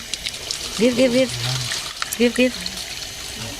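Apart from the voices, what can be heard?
water being poured into glasses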